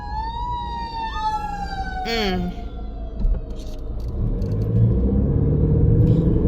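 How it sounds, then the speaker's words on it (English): Fire truck sirens wailing as the trucks pass, rising and falling tones with a loud rumbling engine and traffic noise underneath, swelling as they go by. "Them fire trucks passing."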